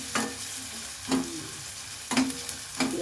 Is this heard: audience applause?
no